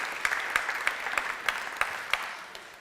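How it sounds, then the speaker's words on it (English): Moderate applause from a small group at a town meeting, steady clapping with a few sharper claps standing out, gradually thinning toward the end. "Let's give them a big round of applause."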